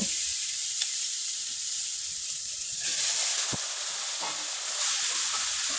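Boiled potatoes go into a frying spice mix, giving a continuous loud hissing sizzle with a few sharp taps and scrapes of a spoon against the pan.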